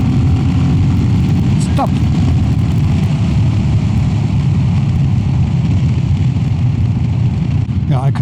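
A Royal Enfield Classic 350 motorcycle, fitted with a FuelX Lite and a DNA air filter, runs from 0 to 80 with a loud, steady engine roar and wind rush close by. A voice shouts briefly near the start.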